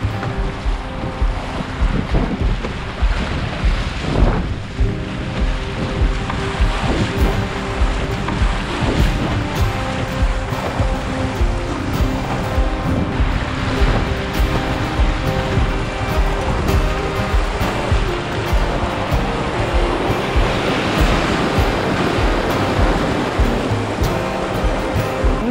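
Waves slosh and splash around a canoe close to a rock on open water, a loud, continuous wash of surf with heavy wind buffeting the microphone throughout.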